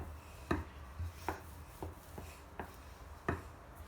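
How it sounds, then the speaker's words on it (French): Rolling pin working shortbread dough on a kitchen surface, heard as a series of soft, irregular thumps and rubs, about eight taps spaced roughly half a second apart, quiet and close with no talk. "je vais commencer à étaler ma pâte"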